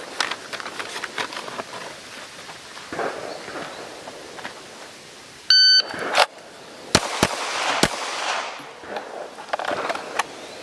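Pistol shots ring out during a timed drill at an outdoor range, with two shots to the body and one to the head: a shot-timer beep, then a quick series of sharp cracks amid ambient noise.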